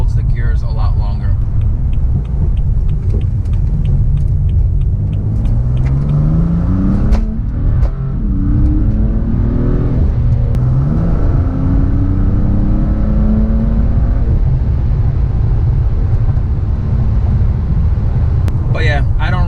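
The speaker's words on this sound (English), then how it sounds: "when I'm deaccelerating, you can hear it rev matching" A BMW M3's engine blips and rises in pitch in repeated rev-matching bursts while the car decelerates through downshifts, over a constant low rumble of cabin and road noise.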